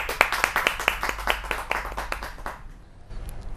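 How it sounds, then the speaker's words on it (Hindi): Scattered clapping from the audience at a Hindi kavi sammelan greets the poet Vinay Vinamra, with sharp, fairly close claps for about two and a half seconds before thinning out into room noise. "जोरदार तालियों के साथ स्वागत किया जाए ओज के बड़े हस्ताक्षर विनय विनम्र जी"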